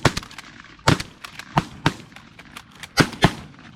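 A rapid volley of shotgun shots at landing geese during an early-season hunt, about a dozen sharp blasts in uneven succession, close and loud, with no talk.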